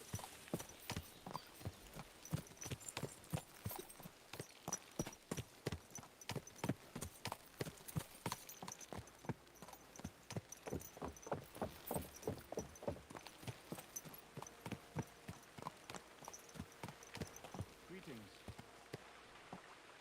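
A horse's hooves clip-clop steadily in Kingdom Come: Deliverance II, a close, regular rhythm of distinct strikes that lasts throughout, with faint rain-like patter in the background.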